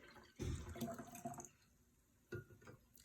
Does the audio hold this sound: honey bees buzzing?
no